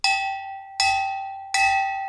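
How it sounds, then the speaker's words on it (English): A metal thermos clanks three times at a steady pace, each strike ringing out bright and resonant like a ship's bell before slowly decaying, close and clear with no talking. "What's it sound like? It sounds like a ship's bell"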